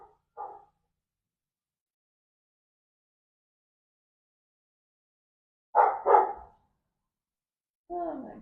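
A dog barks outside with three short, isolated bursts separated by long silences: one faint early bark, then a louder double bark and a final close yelp.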